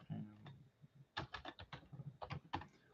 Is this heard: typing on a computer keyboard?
yes